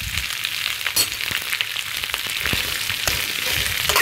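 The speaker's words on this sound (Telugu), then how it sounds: "చూడండి, ఇలా ఫ్రై చేసుకోవాలి. మీడియం ఫ్లేమ్ మీద వేయించుకొని ఫ్రై చేసుకోవాలి." Okra frying in about three teaspoons of oil with a little salt in a pan over medium flame, giving a steady, loud, close sizzle with occasional crackles and stirring scrapes throughout.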